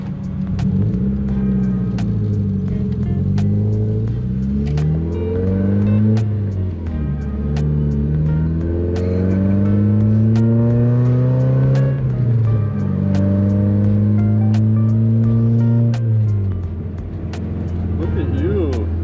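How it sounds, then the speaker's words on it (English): A turbocharged Mitsubishi Ram 50 engine revs up and drops through a downshift, its harmonic drone sweeping up and down in repeated rises and falls, loud and close with talk over it. "Nice little downshift."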